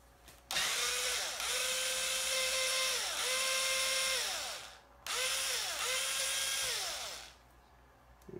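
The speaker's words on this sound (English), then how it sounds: "it looks like I can just take out 4 of these screws on the top here." A power driver spinning out screws on the top of a Losi LST XXL2-E 1/8 scale monster truck, two loud whining bursts with rising and falling pitch, separated by a short pause.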